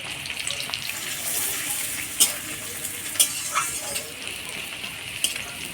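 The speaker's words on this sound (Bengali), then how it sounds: "দিয়ে দেবো পেঁয়াজ কুচি।" Chopped onion sizzles in hot oil in a pan with whole garam masala, cinnamon, cardamom, cloves, dried red chilli and bay leaf, a steady crackling hiss punctuated by a few sharper spatters and stirring scrapes.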